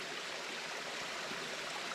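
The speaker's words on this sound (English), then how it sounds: "so we came to a nice little waterfall." Small waterfall and stream along a hiking trail in Arkansas woodland, a steady broadband rush of falling water, close and continuous with no voices.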